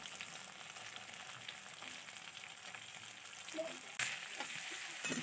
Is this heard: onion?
yes